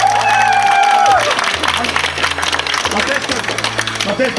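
An audience at a filmed Latvian event bursts into loud, sustained applause and clapping, crowd noise carrying under a voice talking over it.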